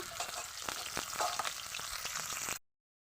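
Puti fish is refried in a little hot oil, giving a steady crackling sizzle with occasional sharper pops and stirring scrapes, moderately close, that stops suddenly near the end.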